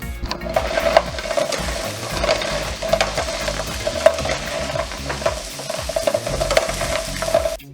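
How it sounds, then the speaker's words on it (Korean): Steady close sizzling and bubbling of Korean rice cakes frying in hot oil, with faint crackles and pops throughout. "조심조심 떡을 넣고 노릇노릇하게 튀겨주세요."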